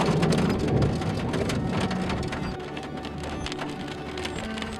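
Heavy rain pours steadily during a November thunderstorm, loud and close, with rumbling thunder mixed into the downpour and no voices.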